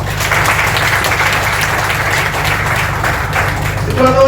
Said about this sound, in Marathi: त्यांच्यासाठी जोरदार टाळ्या होता